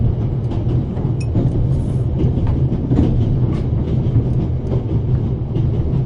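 A moving passenger train rumbling along the rails, with a loud steady low roar and faint clickety-clack running throughout, heard close and without talking.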